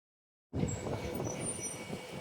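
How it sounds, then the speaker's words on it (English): A train at Thornlie Station rumbles steadily after a sudden start, a low continuous rolling roar with faint high squeals. "And I actually got to get on that train, so time to run."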